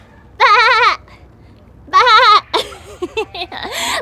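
Children imitate goat bleats in two wavering, vibrato-laden bursts, followed by higher squeaky vocal noises and giggles, all close and clear against near silence.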